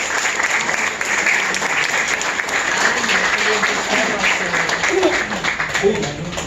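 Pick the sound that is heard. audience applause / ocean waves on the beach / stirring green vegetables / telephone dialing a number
audience applause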